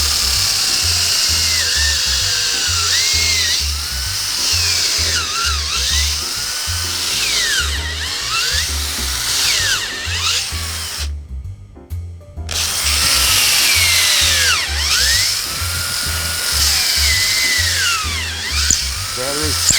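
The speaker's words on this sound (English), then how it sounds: "gonna have to re-drill the hole." Power drill boring out a hole again in the wooden frame of a boat under restoration, whining in repeated loud bursts that rise and fall, with a short pause midway.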